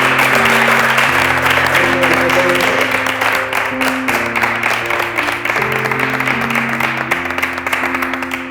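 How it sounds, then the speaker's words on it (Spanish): A studio audience at a reality competition show breaks into loud, sustained applause, a dense wash of clapping that runs throughout with music playing underneath. "Bien, un aplauso."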